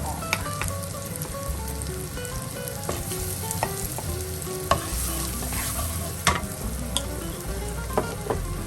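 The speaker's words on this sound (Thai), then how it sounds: "กระเทียมเยอะหน่อยนะคะ อร่อย ก็ใส่ผงกะหรี่นะคะ ไปผัดด้วยเลยนะคะ" Garlic and curry powder stir-frying in a hot pan for a soft-shell crab curry dish, with steady sizzling and repeated scraping strokes of a spatula, close and loud, no talking.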